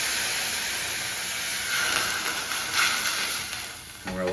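White wine poured into a hot pan with squid and oil, a loud, continuous close hiss of sizzling and steam that swells midway and ends with a sharper burst.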